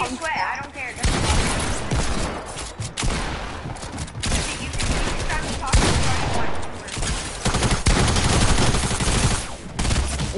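Rapid SMG bursts and gunfire fill a video game match, dense and loud almost throughout, with brief gaps between volleys and people talking over the shooting.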